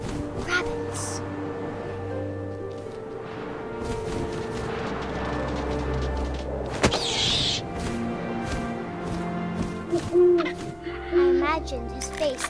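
Owl hooting in the video game What Remains of Edith Finch, a few soft low hoots set within a busy layered game soundscape with wind and other ambient noise.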